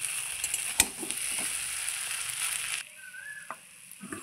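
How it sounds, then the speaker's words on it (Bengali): A frying pan of fish head muri ghonto curry gives a steady sizzle with occasional stirring scrapes and knocks, then the frying noise drops away near the end. "দেখুন একটু ভালো করে নাড়াচাড়া করে মিশিয়ে নেব"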